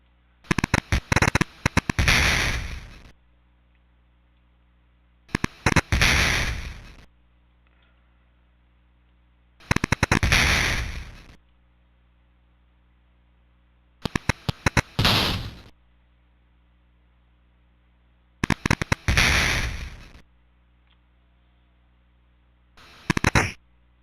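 Strafing-run explosions in BattleTech: The Crescent Hawks' Revenge, six loud crackling blasts in separate bursts a few seconds apart, each cutting sharply out of near silence.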